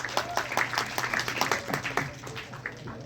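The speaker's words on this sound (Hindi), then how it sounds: "भूषण जी को एक बार जोरदार ताली चाहिए" Clapping from a crowd at a film teaser launch event honoring Bhushan ji, scattered bursts of claps amid a busy room, with voices mixed underneath.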